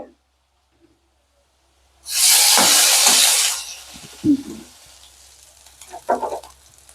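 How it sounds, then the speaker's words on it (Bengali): Whole bay leaves and dried red chilies drop into hot oil in a kadai and burst into a loud sizzle that fades to a softer crackle, with faint sounds of voices and utensils afterward. "আমি কড়াইতে তেল দিয়ে দিচ্ছি। গোটা তেজপাতা, শুকনো লঙ্কা ফোড়ন দিয়ে"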